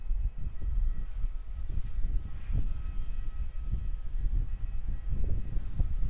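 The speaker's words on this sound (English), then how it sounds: "as it taxis behind the Thai Airways Airbus A350" An airliner taxis at Melbourne Airport behind a Thai Airways Airbus A350, a continuous low engine rumble with gusty, uneven pulses, heard from some distance outdoors.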